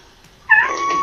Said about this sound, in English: I'm sorry if you guys can hear the meowing.